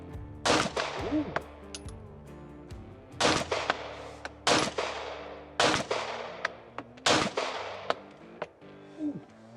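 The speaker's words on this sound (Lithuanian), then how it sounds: "Tikrai toks visai kitaip šaudo negu šitą." Handgun shots crack one after another at a shooting range, half a dozen sharp, loud reports spaced a second or two apart, each with a short ringing tail, and faint voices between them.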